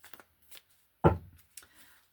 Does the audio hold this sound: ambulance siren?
no